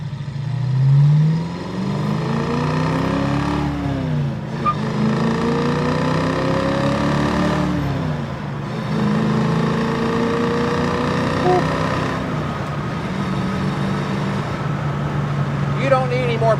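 Ford Mustang Fastback 302 V8 cruising at highway speed, a continuous low engine drone with rising and falling tone under wind and road noise, heard from the cabin while someone talks.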